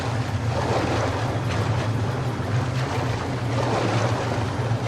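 Flowing water of the River of Fate in the game Metro Last Light, a continuous rushing wash with a low rumble, steady and moderately loud with no voices.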